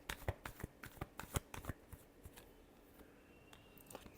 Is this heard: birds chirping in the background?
no